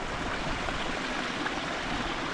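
A mountain river flows through a rocky groove with holes in the rocks, on Britain's busiest mountain beneath Crib Goch: a steady, moderately loud rushing and burbling of water with no voices.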